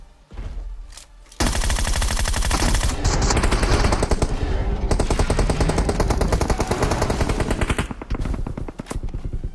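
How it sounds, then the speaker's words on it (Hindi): Dense automatic gunfire erupts from many directions in a mobile battle royale game, loud rapid bursts and shots running almost without pause after a short quieter opening. "अब यहाँ पे इतने जगह से गोली पड़ी"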